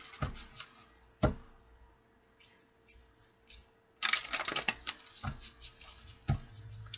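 Tarot cards shuffled by hand for a fire-sign reading, heard as soft papery riffles and taps in short bursts, with a denser flurry midway and a few sharp card snaps, close and fairly quiet.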